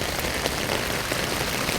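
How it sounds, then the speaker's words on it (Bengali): Heavy rain pours down over a flooded road, a dense, steady hiss of drops striking standing water close by, with no voices. "ঝুম বৃষ্টি পড়তেছে, ঝুম বৃষ্টি, প্রচণ্ড বৃষ্টি পড়তেছে"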